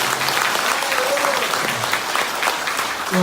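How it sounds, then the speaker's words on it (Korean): Party members at a New Year gathering in Boryeong applaud loudly for lawmaker Kim Tae-woo, a sustained, dense crowd clapping with some voices mixed in. "우리 김태우 의원한테 박수 한 번 크게 쳐주시면 감사니다"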